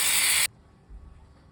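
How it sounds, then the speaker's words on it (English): Steam wand purge on a DeLonghi espresso machine: a loud, broad burst of hiss lasting under half a second, then cutting off abruptly into a quiet room with faint low rumble. "you're gonna turn off the steam wand, wipe it and purge it."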